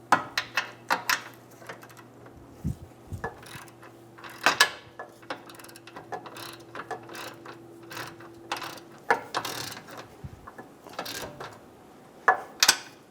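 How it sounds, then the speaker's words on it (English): Ratchet wrench snugging the rear bolt of a front lower control arm on a 2008-2017 Buick Enclave, with bursts of clicking and metallic clanks, close, separated by pauses and a steady mechanical hum. "Snug down the rear bolt."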